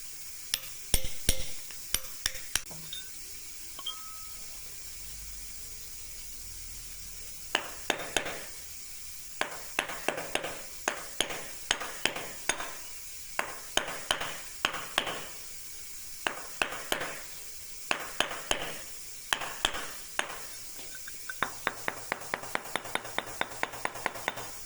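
A steel chisel struck by a mallet while carving a rope pattern into stone, with sharp close knocks in quick bursts and steady runs separated by short pauses.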